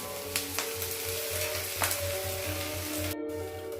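Sliced onions sizzle steadily as they fry in a pan, a dense close crackle with occasional stirring scrapes over a faint pulsing hum.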